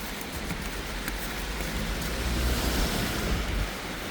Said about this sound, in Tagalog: Medyo malakas talaga yung ulan niya